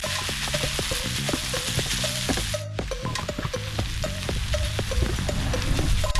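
Leftover lechon, Filipino roast pig, frying in a pan until crispy, with steady loud sizzling and popping throughout and occasional stirring scrapes.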